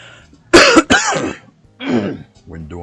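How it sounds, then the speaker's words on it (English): A person coughs sharply twice in close succession, then clears their throat with two rougher, grating bursts, loud and near with quiet gaps between. "I got a feeling I'm going to be fighting with this cough today."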